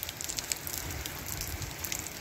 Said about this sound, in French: Et là je peux vous dire qu'il pleut bien